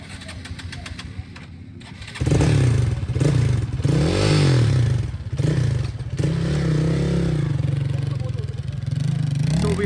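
A Kawasaki KLX 150 or XPulse 200 motorcycle on a small race track in Gurgaon, where its engine fires up after a quieter stretch and then revs and runs loudly nearby with fluctuating throttle, with people talking underneath.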